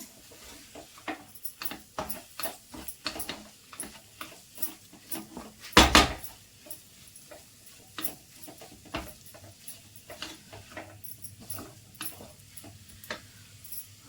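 Okra curry being stirred in a pan after coriander powder goes in, with a spoon giving soft repeated ticks and scrapes against the metal and one louder clatter near the middle, close by with no talking.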